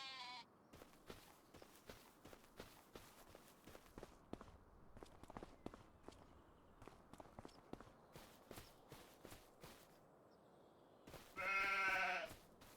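Sheep bleating and footsteps in a farming video game, with soft repeated steps throughout and a loud, close bleat near the end.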